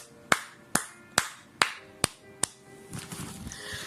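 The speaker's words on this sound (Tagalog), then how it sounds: "Malakas na palakpak po para sa Kanya." Sharp, evenly spaced hand claps ring out six times at a church prayer gathering, each one crisp and close, followed by a softer, scattered patter of clapping and murmuring.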